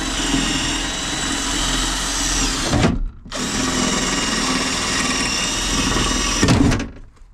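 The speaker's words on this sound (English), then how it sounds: "Just drilling out the rivets." Power drill boring out rivets on a Cavalier Diplomat, a steady loud whine running almost continuously, cut by one brief pause near the middle and ending with a final surge before stopping.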